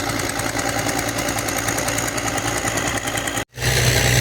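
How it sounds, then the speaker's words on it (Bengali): An engine-driven machine lifting sand from a trawler runs with a loud, steady, throbbing drone and regular knocking pulses, close by. It cuts out sharply near the end, then a lower rumble resumes. "ওই বড় ওই ট্রলারে করে কিন্তু বালি কিন্তু বাইরে থেকে নিয়ে এসে এখান থেকে কিন্তু মেশিন দিয়ে উপরে তোলা হচ্ছে"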